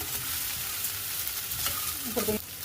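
Small button idlis with onions get tossed in a hot pan, a continuous close sizzle with brief scraping and clattering of a spatula near the end, no voices.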